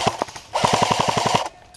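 Rapid bursts of airsoft gunfire rattle out during outdoor airsoft gameplay, a short volley followed by a longer fast string of shots, loud and close with no talking.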